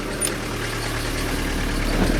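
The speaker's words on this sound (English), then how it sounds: "I guess I can idle this thing down now." A 1983 Ford Ranger diesel engine idles with a steady, low mechanical rumble, close and continuous throughout, with no talk over it.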